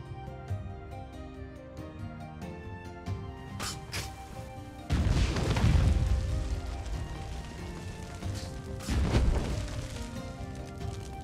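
Explosive jar traps detonating in Conan Exiles, two heavy booming blasts a few seconds apart, each with a rumbling crash tail, over a musical backdrop and no talking.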